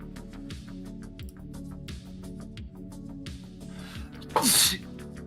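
A single loud, sharp sneeze bursts out near the end, over a background of rhythmic music.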